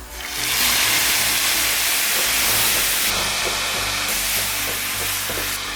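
Tomatoes going into a pan of golden-brown frying onions, a loud bright sizzle and hiss rising quickly and holding steady, with a few stirring scrapes, no talking.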